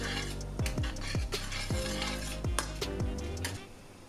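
Tomato sauce being mixed in a pan for deep dish pizza, with a series of metallic utensil scrapes and clinks against the pan at an uneven rhythm, close and fairly quiet, no talk.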